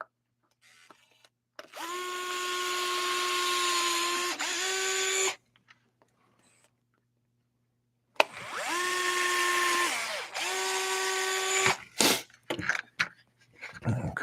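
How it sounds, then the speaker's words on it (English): An electric drill whines as it bores holes into a plastic toy, running in two sustained bursts of a few seconds each with a pause between and some clattering handling noise at the end. "now I need to drill a hole, a couple holes, so I can get my headphone jack wires into this toy"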